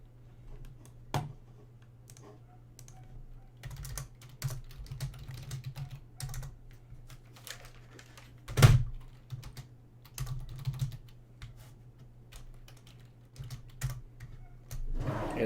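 Keys clatter on a computer keyboard, with irregular bursts of soft clicks and a few louder taps over a low steady hum, close by and without talk.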